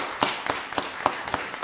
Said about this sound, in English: let's give Commissioner Williams another round of applause